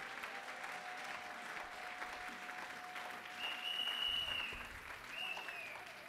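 Congregation applauding during a French-language church service, a steady wash of clapping that lasts throughout, swelling slightly near the middle, with a faint whistle-like tone briefly above it.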